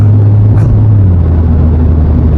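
A 2016 Kia Rio sedan's engine pulls hard to overtake, a loud, close, steady droning rumble with a brief dip in pitch early on, and no talk.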